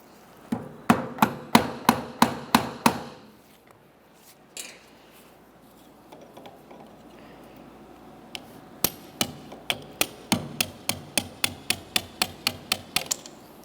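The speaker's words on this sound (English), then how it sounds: "to drive it out, we'll come to the far end, give it a couple bonks" A hammer strikes a punch to drive out a steering column pivot pin on a 2001-2005 Ford Explorer Sport Trac, sharp close metallic taps in two rapid runs of about ten blows each, separated by a quieter pause.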